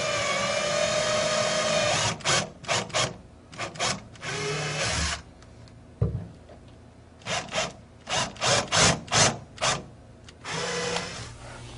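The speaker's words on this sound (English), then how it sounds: "we can now start to pre-drill our pilot holes." A power drill pre-drills pilot holes into a cabinet through a mounting template, sounding in a run of short close bursts separated by brief pauses.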